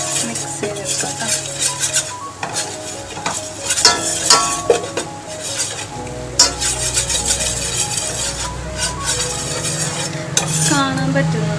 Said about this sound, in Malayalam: നന്നായിട്ട് മിക്സ് ചെയ്തെടുക്കാം.